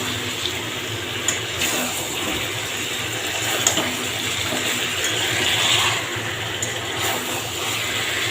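Water poured into a pot of braised meat already cooked down in oil, a steady close pouring and splashing that runs throughout with small clinks and no talk.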